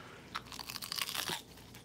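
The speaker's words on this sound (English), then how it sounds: "Let me get in closer with the camera so you guys can hear the crunch of the taco." Biting into a crisp fried potato taco gives a close, brief burst of crunching and chewing that swells and fades within about a second, with no talk over it.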